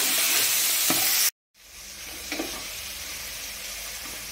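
A tempering of tomato pieces and onions sizzles loudly in hot oil, a dense steady hiss that cuts out for a moment, then resumes slightly softer with faint stirring scrapes.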